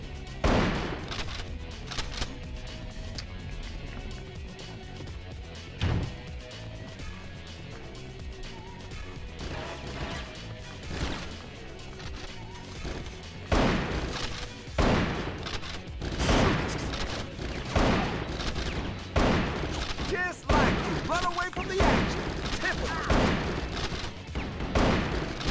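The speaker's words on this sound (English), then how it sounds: "Guys just shrug off shotgun blast, don't they?" Shotgun blasts and other gunfire in the PS2 video game Bad Boys: Miami Takedown, sharp repeated bangs at irregular intervals over a continuous game soundtrack and ambience.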